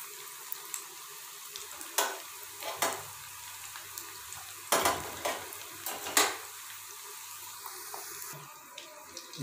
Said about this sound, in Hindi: ऑयल हमारा गर्म हो चुका है, तो अब हम इनको फ्राई करते हैं।